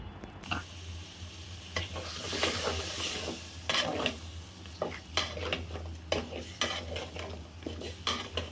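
Meat being stirred and sautéed in a pot with spices, ginger-garlic paste and a splash of water while cooking Bangladeshi-style haleem, repeated utensil scrapes and clinks over a steady sizzle, close and moderately loud with no talking.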